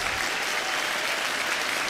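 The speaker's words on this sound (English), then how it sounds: "Round of applause" An audience gives a guest a steady, dense round of applause on a late-night Twitch show, close and loud for the whole stretch.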